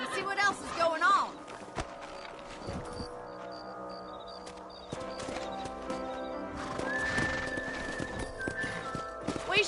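Horse hooves clip-clopping in the Western video game Red Dead Redemption, a steady rhythmic trot with an occasional whinny, mixed with game music and character voices talking.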